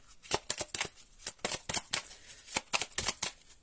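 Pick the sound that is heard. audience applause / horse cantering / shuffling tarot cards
shuffling tarot cards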